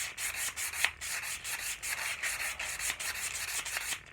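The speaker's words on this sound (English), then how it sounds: "And we are getting this varnish stripped right off." Varnish is sanded off a tomahawk handle by hand with 120-grit sandpaper, a close, rhythmic back-and-forth scratching of quick abrasive strokes repeating about four times per second, fairly quiet and without talking.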